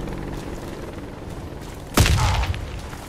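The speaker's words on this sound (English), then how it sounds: "Grenade out!" A grenade explodes in the shooter game Warface, a single sudden boom with a rumbling tail partway through, over a steady bed of game ambience.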